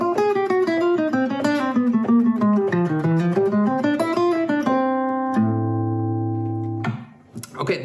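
Fusion guitar phrase with a quick run of single melodic notes, then a couple of held notes ringing out, played clearly and alone before a brief trailing sound.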